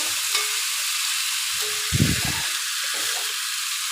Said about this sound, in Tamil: நல்லா அடி பிடிக்காமல் நல்லா இப்படியே கிளறி விடுங்க